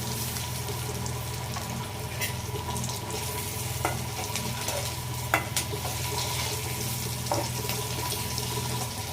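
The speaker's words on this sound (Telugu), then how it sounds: "ఇవైతే ఇంకొంచెం వేగితే సరిపోతుందండి" Green chillies fry in a pan with a steady, close sizzle and bubbling, broken by a few light clicks of stirring.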